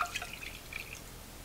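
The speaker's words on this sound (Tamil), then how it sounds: "இந்த காயை அதுக்கு ஒரு பேனில் முதல்ல தண்ணி சேர்த்துடலாம்" Water is poured into a cooking pan on a home stove while making a Tamil buttermilk curry, giving soft, faint splashes and drips early on that fade into a quiet trickle.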